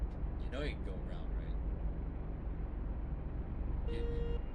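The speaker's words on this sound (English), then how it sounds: "Why are you honking at me?" A car horn honks in the City Car Driving VR game, a short tonal blast near the end after a few brief chirps early on, over a steady engine and traffic rumble.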